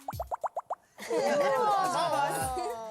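A voice imitates blowing bubbles in water: a row of six quick, bouncy popping plops, then a longer, loud bubbly burbling noise.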